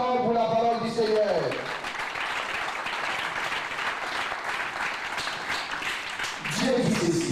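A church congregation breaks into sustained applause, dense clapping from many hands filling the room for several seconds, with a voice speaking before and after it.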